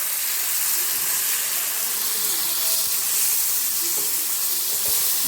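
Tomatoes with crushed garlic cooking in a pan for tomato rice, a soft, even hiss of steam and gentle sizzling that stays constant throughout, close and without talk or stirring accents.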